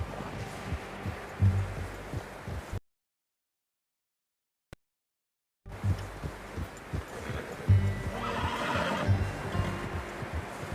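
A horse in the Red Dead Redemption video game whinnies twice at close range, with hoof and movement noises around it and a gap of near silence in the middle, with no voices.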